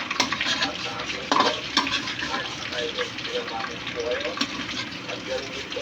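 Meat frying in a pan for puchero: a steady, close sizzle with spoon scrapes and occasional sharp taps, with murmured voices faintly in the background.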